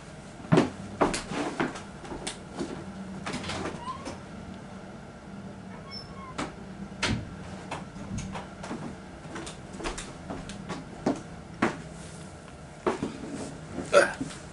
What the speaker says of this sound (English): Had to lock the door real quick